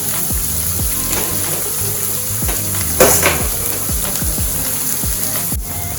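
Cornmeal cooking in a pan, with a steady low sizzle under repeated scraping and clinking strokes of a utensil against the pan at a regular pace, fairly close and moderately loud, no voices.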